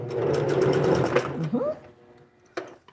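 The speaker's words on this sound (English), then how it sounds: "let's back stitch a moment" A sewing machine whirs steadily, close up, as it back stitches yellow ruffle fabric, then stops, leaving a few light clicks and handling sounds, with a voice speaking in the clip.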